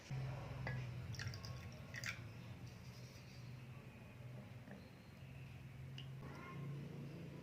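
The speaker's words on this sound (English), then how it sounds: "In this egg, add some water." Water is poured into a glass holding a cracked raw egg, with a soft, uneven dribbling over a steady low background hum.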